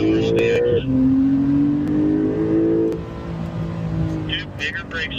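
Porsche on a track at the Porsche Experience Center Los Angeles accelerating out of a corner, engine rising in pitch as power builds, heard from inside the car with a voice talking over it.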